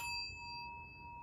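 A single bell struck once, its clear ringing tone sustaining and slowly fading over a faint low background hum, with no talking.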